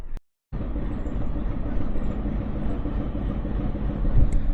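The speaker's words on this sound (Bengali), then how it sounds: "আর ফাইনালি আমাদের ট্রেনটা চলে আসলো" A train pulls into a station on the route to Benapole, its steady heavy rumble filling the scene close by and loud for several seconds after a brief silent gap.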